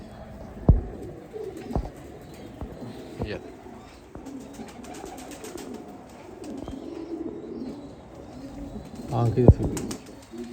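Firozpuri pigeons coo in a Lahore loft, low soft calls rising and falling behind a voice, with a few sharp knocks and a brief flutter near the end.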